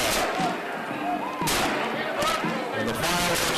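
Fireworks bursting over a high school football game between Pulaski County and Whitley County, a series of loud booming blasts with crackling tails that fill the whole stretch, a crowd roaring under them.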